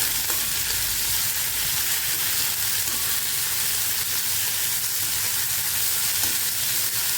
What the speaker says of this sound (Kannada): ಇದನ್ನು ಎಣ್ಣೆಯಲ್ಲಿ ಸ್ವಲ್ಪ ಬಾಡಿಸ್ಕೊಳ್ಬೇಕಾಗ್ತದೆ.